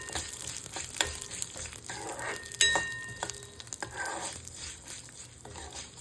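Fenugreek seeds dry-roasting in a pan over a low flame for a mango-ginger pickle spice mix, giving a soft, steady sizzle with scattered clinks and scrapes of stirring, one sharper knock near the middle, no voices.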